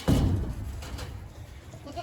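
A single short sheep bleat rises at the start, then trails off into faint outdoor farm background noise.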